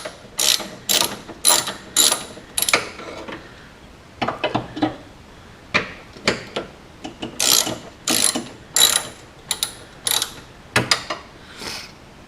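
A ratchet wrench loosens the 10mm bolts on a Porsche 944 headlight bucket, giving repeated bursts of rapid clicking with short pauses between strokes, close and fairly loud.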